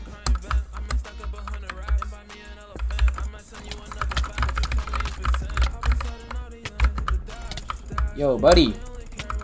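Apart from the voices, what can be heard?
typing on a $30 computer keyboard while playing Bedwars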